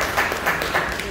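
Brief, moderate applause from an audience at a business forum, a short patter of clapping blended with murmur.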